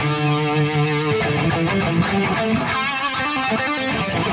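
An electric guitar plays a sustained, distorted lead line through a Headrush Prime lead preset with an airy delay, the notes held and bending, with trailing echoes filling the space, loud and alone.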